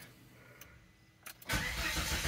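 A 2002 Volvo V70 2.4T cranks and fires after camshaft position sensor replacement, a few faint clicks giving way to a sudden loud start that settles into a steady, close idle.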